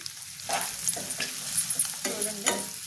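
Chicken and liver for an Andhra-style gongura curry sizzle in a pan, a steady crackling fry broken by a few scraping stirs, close and moderately loud with no talking.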